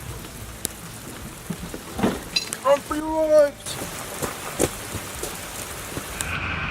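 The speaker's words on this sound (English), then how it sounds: "The rain's back." Steady rain patters on surfaces and a vehicle as a storm returns, with a faint rumble beneath, while a voice briefly speaks and a few sharper knocks and a brief tonal sweep cut through midway.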